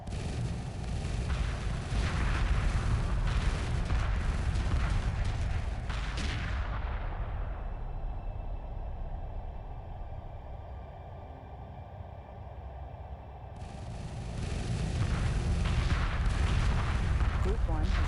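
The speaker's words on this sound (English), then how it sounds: "We can see them flying in much tighter formation and firing much more rapidly with their weapons." Spaceship weapons fire in a space battle in the game Homeworld Remastered, a dense, continuous barrage of booming, crackling bursts. It thins into a quieter rumbling stretch midway, then swells back to full loudness.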